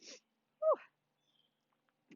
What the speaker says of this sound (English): Here's another sneeze.